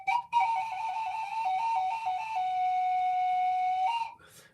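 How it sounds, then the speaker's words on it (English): A handheld owl whistle sounds one sustained note, with a few quick fluttering repeats at first, then a long steady tone that stops abruptly, loud and close. "the owl whistle, which is really fun too. It's just basically one note."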